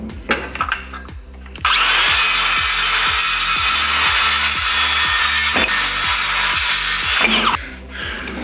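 A power saw cuts a traced wooden sword blade piece, its loud, steady buzzing whine running continuously for several seconds with a rhythmic low chatter, after brief handling knocks before it starts and a short stop at the end.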